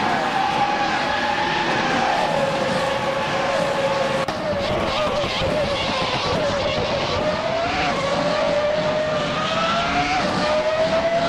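Race cars roar through a video game race, a steady loud engine drone with rising and falling whine as cars jockey for position, continuous throughout with no talking.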